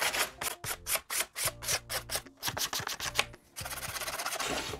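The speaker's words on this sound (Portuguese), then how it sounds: "raspando com a lâmina." A flat blade scrapes over a decorative recycled wooden frame in rapid repeated strokes, a dense rhythmic rasping run of close, fairly loud passes with a brief pause before a steadier continuous scrape.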